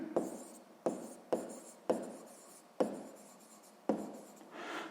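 Pen writing by hand on paper during a sixth-grade math exercise: a series of about seven scratchy strokes, each starting sharply and fading, close and quiet, with no talking.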